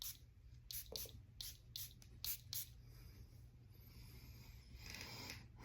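Several short, crisp bursts of Bvlgari Le Gemme Sahare fragrance sprayed from an atomizer in quick succession, close up over a low steady background hum, then a quieter hiss later.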